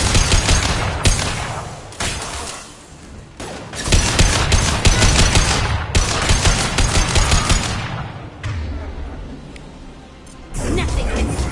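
Sustained automatic gunfire and fusillades from a Mass Effect 2 firefight, loud and dense with bursts and brief lulls, while combat shouts ring out over the shooting.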